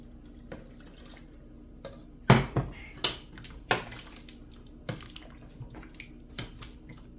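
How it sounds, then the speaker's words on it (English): Water, about a cup, splashes into a beef stew pot in scattered bursts, with a few clunks and drips, fairly quiet and close. "I'm going to add about a cup of water"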